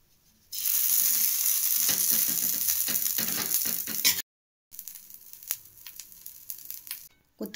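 Minced mutton fries with bread in a pan, a loud sizzling hiss with spatula scrapes and clatter, broken by a sudden brief silence before quieter scraping and clinks resume.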